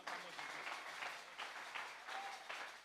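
A live prayer gathering breaks into applause and clapping acclaiming Jesus, a short burst of crowd clapping with voices mixed in.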